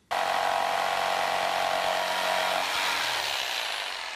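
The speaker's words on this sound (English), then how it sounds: "And then I can cut it out with a jigsaw." A jigsaw cuts through wood for a cabinet leg, a close, loud, steady buzzing whine running for about four seconds before stopping abruptly, with no talking.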